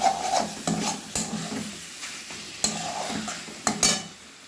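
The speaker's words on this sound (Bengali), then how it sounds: "চিকেনটা এইভাবে আমি ভেজে নেব" Chicken pieces fry in oil in a pan for a soya chicken kosha dish, with a steady sizzle broken by several sharp scraping stirs of a spatula; no voices.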